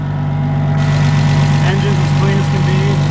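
A Komatsu FG45 pneumatic-tire forklift, a 10,000 lb lift, idles with a steady low hum and a constant mid-range drone, close and continuous throughout, with no talking over it.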